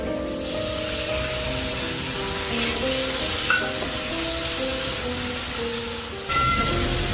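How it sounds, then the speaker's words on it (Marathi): Finely chopped tomato sizzles and spits in a pan with onion already sautéed to a pinkish color, making a steady frying crackle with faint stirring and a brief burst of louder sizzle near the end. "गुलाबी रंगावर छान असा कांदा परतून झालाय. मी यात बारीक चिरलेला टोमॅटो टाकते."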